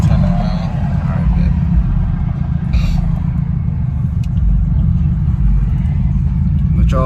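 Inside a Chevrolet Impala SS cruising on a new aftermarket exhaust, a deep, steady low rumble fills the cabin, with a voice briefly heard over it.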